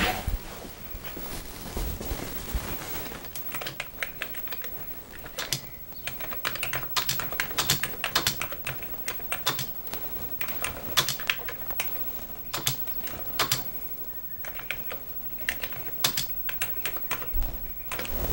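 Fingers type on a computer keyboard in short irregular bursts of crisp clicks and key taps, close up and continuing for about eighteen seconds, with brief pauses between runs and no talk.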